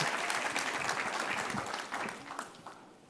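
An audience claps for a panel at a public forum, a dense burst of applause that fades out over about three seconds.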